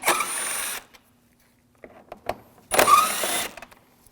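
A powered driver with a T30 socket spins out screws on a 2007–2013 BMW 328i front lower grille area, in two loud whirring bursts separated by quiet handling clicks and taps.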